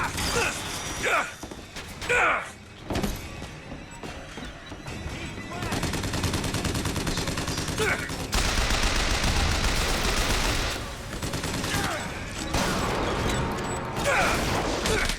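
Rapid gunfire rattles through a Bioshock Infinite firefight, with a few separate shots and clanks at first and then sustained loud bursts of automatic fire, while a voice shouts over the combat.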